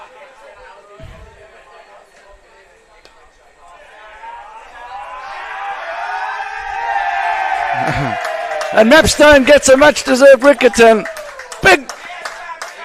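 Cricket crowd at a World Champs match, MASAGAMY versus Brisbane Burners, roars and claps loudly as a wicket falls. A commentator talks over a long, rising swell of cheering that ends in bursts of sharp applause.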